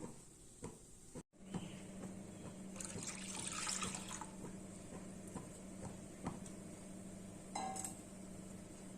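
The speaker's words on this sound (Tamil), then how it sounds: "அரை பங்கு தண்ணி விட்டு இதில் சேர்த்துக்கலாம்." Water pours and trickles into a pot of milk for rice payasam nearby, with a few light clinks of metal or glass and a brief sharp knock early on.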